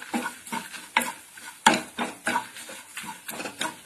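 A spoon stirs taro-leaf thal curry in a pot after coriander powder goes in, making rhythmic scraping and sloshing strokes about twice a second, close and distinct, with no voices.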